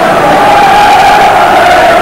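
A big football crowd roars at a 1991 Grimsby Town match, a loud, steady wall of chanting and cheering from thousands of fans, close and continuous with no distinct individual voices.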